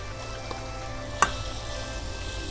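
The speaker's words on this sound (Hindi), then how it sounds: "अब इसे अच्छी तरह से हम फ्राई कर लेंगे।" Tomatoes fry in a meat masala for achar gosht, giving a steady, fairly quiet sizzle with one sharp utensil clink near the middle and no talking.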